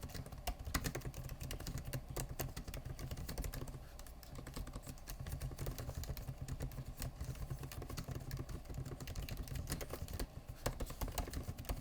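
Rapid, uneven clicking of keys being typed on a 16-inch M1 Pro MacBook Pro laptop keyboard, close and fairly quiet, running continuously with a brief pause partway through, no talking.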